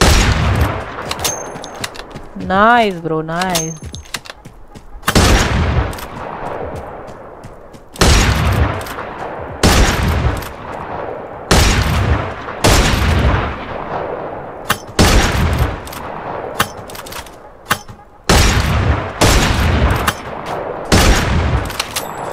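Bursts of gunfire ring out in Free Fire Max, including AWM sniper shots, as a string of loud, sharp, echoing reports spaced a second or two apart, with a brief spoken word near the start.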